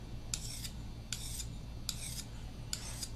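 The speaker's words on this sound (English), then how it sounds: "So you're going to take the stone file and run the stone file along each of the 6 recessed areas like this" Stone file rasping along the recessed areas of a Jonsson shrimp peeler sharpening blade, four evenly spaced strokes each lasting about a third of a second, close and crisp against a steady low background hum.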